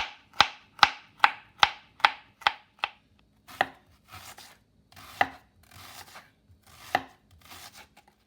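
Scallions and a large whole onion are chopped with a knife on a board, sharp rhythmic thwacks that come quickly at first, then slower and more irregular, close and clear with no talking.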